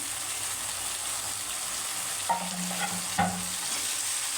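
Chopped tomato pieces going into a pan for an egg masala curry, giving a steady frying hiss with two sharp spoon clinks and stirring scrapes toward the end.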